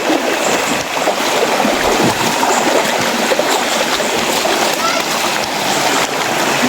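Strong water current rushes at Purok waterfalls, a loud, steady wash of splashing and churning that fills the whole clip while people talk over it.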